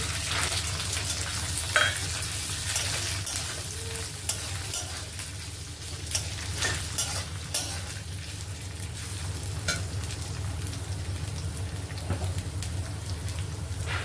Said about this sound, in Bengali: এখানে সবজিটা দিয়ে দেবো গাজর বিনস আর ক্যাপসিকাম